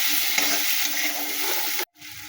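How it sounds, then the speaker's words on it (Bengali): Potatoes stirred and frying in a pan with turmeric and salt, a steady close sizzle with stirring scrapes that cuts off briefly near the end, then resumes more quietly. "দিয়ে নাড়াচাড়া করছি, তার মধ্যে আলুগুলো দিয়ে দিলাম, দিয়ে এটা নাড়াচাড়া করে দিলাম।"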